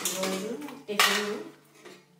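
Idli plates clatter and clink as they are washed and handled, a couple of quick metallic knocks and rattles, close and moderately quiet.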